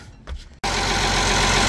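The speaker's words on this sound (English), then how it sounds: "I got the engine fired up" A trawler's boat engine catches abruptly after a brief quiet cranking moment, then runs at a loud, steady, broadband drone close by.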